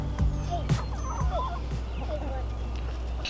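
Hens clucking and squawking close by, several short bird calls overlapping against a steady low engine drone.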